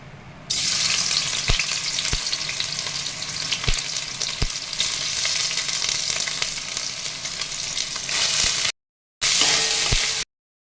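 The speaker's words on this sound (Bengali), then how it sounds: "এবার আমি তেলের মধ্যে দেব, দিয়ে একটু ভেজে তুলে নেব" Soya chunks, soaked and squeezed, frying in mustard oil in a kadai give a loud, steady sizzle with a few sharp pops and crackles, broken by a short silence near the end before the hiss resumes.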